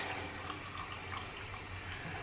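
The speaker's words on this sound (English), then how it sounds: "I'm going to run the water" Water runs steadily from a tap into a sink while a makeup brush is being cleaned, a continuous close hiss and splash with no talking.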